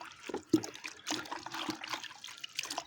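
Plant cuttings are rinsed in water with a few close splashes, dribbles and trickling sloshes in quick irregular bursts, fairly quiet.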